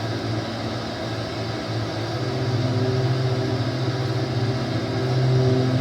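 Aircraft engine drone from a flight simulator game, a steady loud hum with low tonal bands that swell slightly as the throttle is rolled off and back on, with no talk over it.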